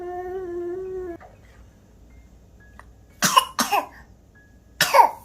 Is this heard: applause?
no